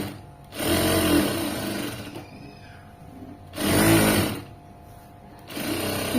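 A sewing machine stitches piping onto fabric in two loud, steady whirring runs separated by a short pause. A third burst starts at the end, and no one speaks.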